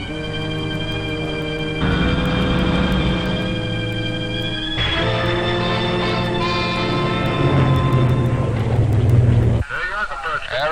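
Air India Boeing 707-437 airliner in 1961 climbing out after takeoff as the landing gear retracts: a loud, continuous roar of jet engines with whining tones. A faint thump comes near the end, and cockpit voices speak over the noise.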